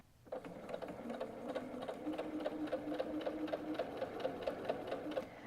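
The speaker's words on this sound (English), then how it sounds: "All right, let's start sewing." A sewing machine stitches through pieced half-square-triangle quilt fabric, running steadily and close at a fast even rhythm with no talking.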